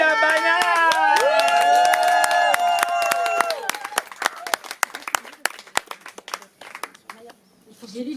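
Audience at a slam poetry evening breaks into applause with loud cheering and whooping voices at first, then the clapping thins into scattered individual claps that trail off.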